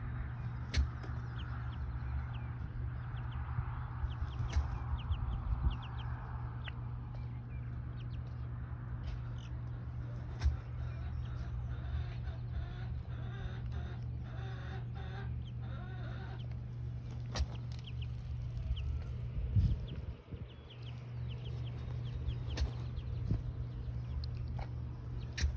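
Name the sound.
chickens clucking, rooster with chicks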